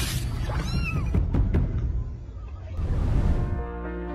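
A cat meows several times in short, rising cries, close and clear, with some background noise.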